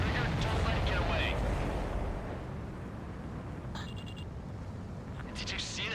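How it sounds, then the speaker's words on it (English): Supply ship blowing up in a flight combat video game, a loud roaring blast that rumbles and slowly decays into a low, steady wash, with faint higher tones near the end. "Did you see that explosion?"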